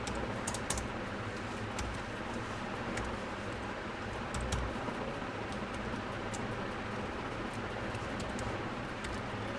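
Faint keystrokes tap on a computer keyboard while a command is typed in a Linux terminal, a light irregular clicking set under a steady background hiss, with no speech.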